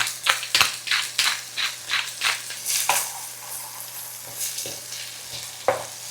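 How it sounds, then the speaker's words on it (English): Peas are stirred and sautéed in a pan for pasta and peas: a spoon scrapes and rattles in repeated strokes over a soft, continuous sizzle, near and clear with no talking. "we're just gonna mix this up and saute the peas for a few minutes"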